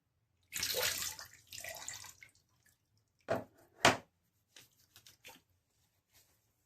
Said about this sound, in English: put the bloom water on my face and then get my face wet